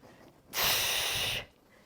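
A single heavy, forceful exhale during an upper body workout, close and sharp, lasting just under a second between quiet moments.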